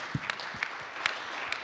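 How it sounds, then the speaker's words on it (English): A small audience claps together briefly, a short burst of light, fairly distant applause with a few distinct hand claps. "we got to clap it out for that"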